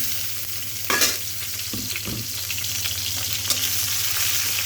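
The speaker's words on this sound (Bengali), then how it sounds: "মশলাগুলো প্রায় ভাজা ভাজা হয়ে গেছে" Chopped ginger and spices fry in a pan during vegetarian cooking, making a loud, continuous sizzle with a few sharp spatters and stirring scrapes, with no voices.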